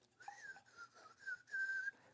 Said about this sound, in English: Oh, whistle while you work.